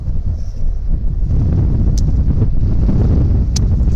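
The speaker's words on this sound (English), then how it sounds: "This wind should help me carry it further." Gusty wind buffets the microphone out on a seaside golf course, a continuous rough roar with a couple of faint clicks standing out.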